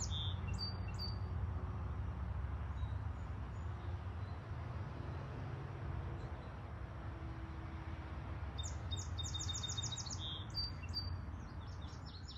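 Birds chirp in short bursts outdoors, fairly close, over a constant low rumble of distant road or train traffic. The calls come at the start and again near the end, and no one speaks.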